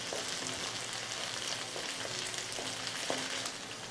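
Curry leaves and green chillies fry in a pan for cabbage poriyal, a constant dense sizzle with several soft scraping stirs of a spoon across the pan.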